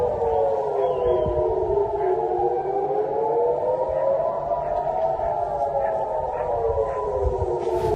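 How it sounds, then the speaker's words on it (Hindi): A loud wailing air raid siren in Israel rises and falls continuously in slow waves, steady and unbroken throughout. "सायरन दर सायरन बज रहे हैं"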